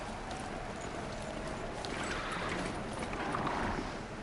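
A horse moves at a steady gait, its hooves making a continuous muffled clip-clop blended into a broad rushing noise, with no distinct voices.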